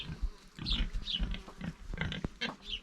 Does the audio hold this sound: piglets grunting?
yes